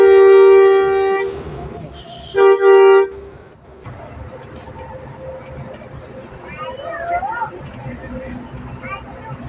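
A train runs along the railway right beside a moving bus in Central Java, its horn blaring in loud sustained tones near the start and again briefly, over steady rail rumble and some onboard voices.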